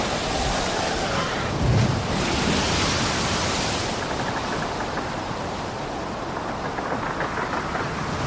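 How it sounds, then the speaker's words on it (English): Strong, steady wind roars and buffets continuously, a broad rushing noise with a brief gust swell near the start. "very windy."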